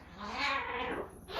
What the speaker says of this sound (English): if you hear some cat growling in the background